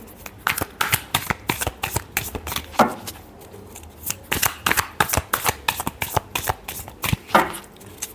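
A deck of tarot cards is shuffled close up, with a quick run of crisp riffling flutters and soft slaps in uneven bursts and no voices.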